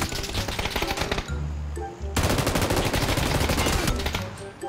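Rapid automatic gunfire in the PUBG video game comes in two long, loud bursts of fast cracks, with a short pause and engine rumble between them.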